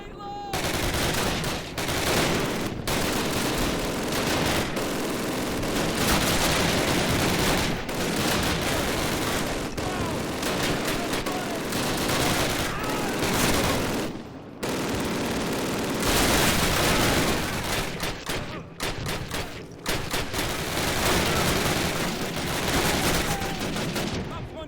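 Dense, sustained gunfire from a World War II battle in the 2003 game Call of Duty, rifle and machine-gun bursts overlapping almost continuously at high volume, with brief lulls and shouted voices mixed in.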